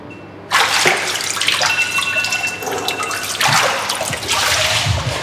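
Cold water runs from a tap or shower and splashes steadily, starting abruptly after a brief quiet moment and continuing as a broad, close hiss with no talking.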